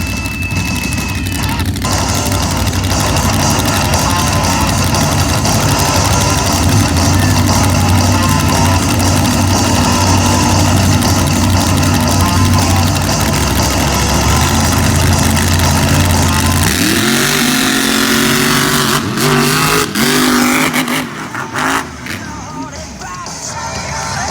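Monster truck engines roar loudly in side-by-side championship racing at a monster truck event, the deep drone revving and shifting in pitch near the end amid crowd noise.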